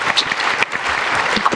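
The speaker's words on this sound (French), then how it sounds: "On l'applaudit." Audience at a round-table conference applauding a speaker, brief dense clapping from a full room, close and continuous.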